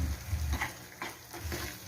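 Tamarind water poured into a pan of frying horse gram curry, a soft hissing sizzle with a few quick stirring scrapes, brief and close.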